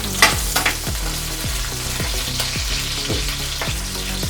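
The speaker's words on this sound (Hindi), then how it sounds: "ग्रीन चिली, थोड़ा फ्राई करके लेंगे।" Green chillies fry in a pan for Andhra-style chilli chicken, giving a steady close sizzle broken by regular scraping strokes of stirring, with no talking.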